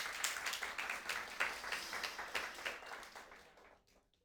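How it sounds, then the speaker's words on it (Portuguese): Audience applause for Bruno at a church service, a dense burst of many hands clapping that swells at once, holds steady, then thins out and fades to near silence. "Dá uma salva de palmas a Bruno."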